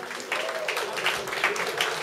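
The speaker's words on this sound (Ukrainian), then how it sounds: "Оплески йому." Moderate, steady clapping from an audience welcomes another musician being introduced as a jury member. The applause runs throughout with a faint voice at the start.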